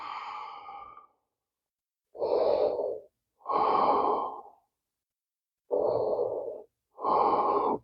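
Slow, audible breaths during a yoga pose, five long airy exhales and inhales close to the mic, each lasting about a second and separated by short silences, with no words spoken.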